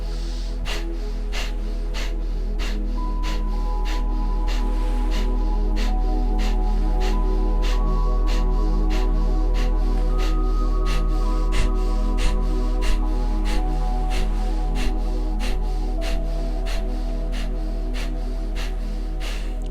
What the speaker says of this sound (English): Coming back to those 30 power nose breaths. Begin.